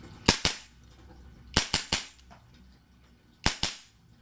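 Airsoft gas blowback rifle fitted with a dummy silencer, firing sharp, loud pops in three quick pairs, each pair followed by a short mechanical echo, with brief quiet gaps between bursts.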